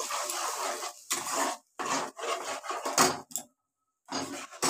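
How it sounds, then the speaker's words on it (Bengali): Spice paste being fried and stirred in a pan, heard as repeated scraping and sizzling strokes in short bursts with brief pauses, close and fairly loud, no talking. "এবার আমি এটাকে ভালোভাবে কষাবো মশলাটাকে"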